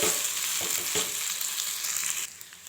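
Vermicelli upma being stirred in a pan, a steady close sizzle with a few soft scraping strokes of the spoon, the frying hiss dropping away near the end.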